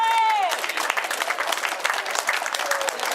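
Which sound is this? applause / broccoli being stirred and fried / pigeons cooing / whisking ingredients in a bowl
applause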